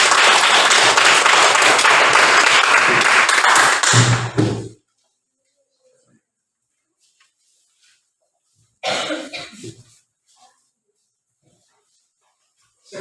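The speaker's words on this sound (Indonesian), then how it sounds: "Berikan aplaus kepada" Audience applause at a classroom group presentation: a dense burst of clapping for about four seconds stops abruptly, then after a silent pause a shorter round of claps rises and fades.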